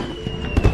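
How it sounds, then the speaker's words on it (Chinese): Fireworks bursting at a hotel during a snowy night, a short muffled pop and crackle heard from a distance over a low hum. "居然还有烟花。"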